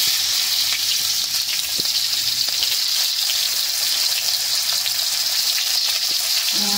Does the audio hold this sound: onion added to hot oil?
yes